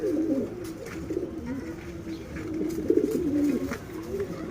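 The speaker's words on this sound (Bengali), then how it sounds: "গিরিবাজ আছে, বাংলা আছে, সিরাজি কবুতর আছে।" Pigeons, including Giribaz, Bangla and Sirazi breeds, coo repeatedly in low, throaty rolling calls, close by, with faint rustles and a few soft bird chirps in the background.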